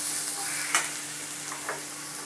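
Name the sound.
onions sautéing in pan for mushroom dosa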